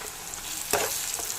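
Curry leaves go into hot oil for an egg omelette curry, setting off a sustained sizzle with a sharp crackling burst midway, heard close and alone.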